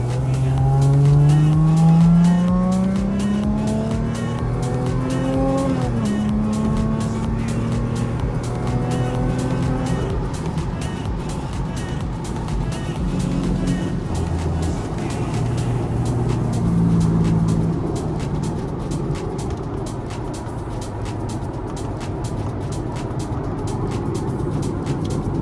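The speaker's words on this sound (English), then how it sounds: "Now we're just cruising along and it feels like a normal car because we're not in boost." Supercharged Lexus IS 350 cruising in traffic out of boost, a steady engine drone and road noise throughout with gear-change pitch steps early on, heard from inside the car.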